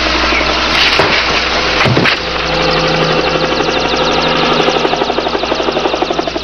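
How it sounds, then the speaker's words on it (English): A helicopter flies overhead, its steady, loud rotor chop and engine drone filling the scene, the blade thump growing more distinct and rhythmic toward the end. "Lousy copter, I'd like to shoot it down."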